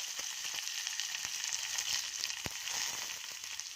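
Food sizzles steadily in a hot pan, a close, even hiss with a few small pops and ticks, short and unbroken, with no voices over it.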